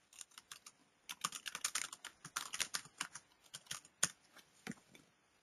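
Keystrokes on a computer keyboard while a status update is typed into a web team portal, a steady run of quick, light clicks in bursts with a few brief pauses, close to the mic and with no talk.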